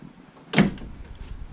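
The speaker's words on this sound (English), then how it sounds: "privacy door, I guess." An RV bathroom privacy door moves once, making a single quick bump or latch sound against a quiet interior.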